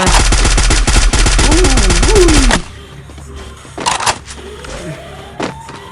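Rapid automatic gunfire rattles loud and close for about two and a half seconds in a competitive tournament video game, followed by quieter scattered game sounds and a couple of softer bursts.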